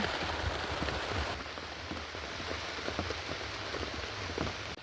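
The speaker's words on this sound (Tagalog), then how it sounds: "hinay na ang uwan guys" Steady rain falls on an outdoor surface at a cow farm, a dense, even hiss with scattered drop ticks throughout, no voices.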